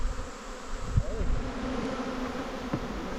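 Bees buzz nearby with a continuous droning hum, individual insects swelling and fading as they pass close, over a low murmur of background sound.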